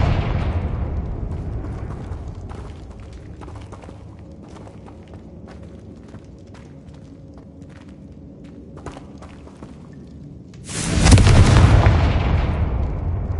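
Confringo fire spell explosions in the video game Hogwarts Legacy: a booming blast that decays into a rumble, then a brief lull of small clicks before a second loud, roaring burst.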